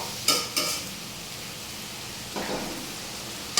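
Whole spices (panch phoron, black cumin, ajwain, cumin, cinnamon, cardamom, cloves, bay leaf) dropped into hot oil, giving two quick crackling bursts, a steady soft sizzle, then another burst and a final pop.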